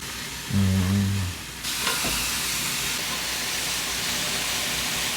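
Pork belly hits a hot Korean barbecue grill with a sudden loud hiss that settles into a steady, close sizzle, following a brief tonal hum at the start.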